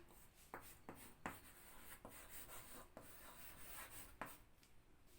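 Pen writing an answer on paper in an English class, a series of faint scratchy strokes and taps with irregular rhythm, close and quiet, no talk.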